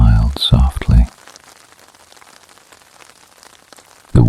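Gentle rain on an Italian coast makes a faint, steady patter in a pause between stretches of a calm speaking voice at the start and the end.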